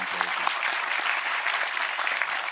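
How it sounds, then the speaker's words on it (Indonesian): Audience at a Kenduri Cinta Maiyah gathering claps for three friends, producing a brisk, continuous patter of many hands, fairly close and even in loudness throughout. "Tepuk tangan untuk teman-teman kita bertiga"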